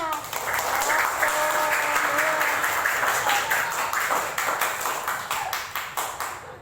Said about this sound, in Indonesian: Ayo lebih semangat lagi, tepuk tangannya.